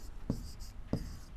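Numbers being written on a board, two short distinct scratching strokes of a marker or chalk about half a second apart, faint and close, over quiet room tone.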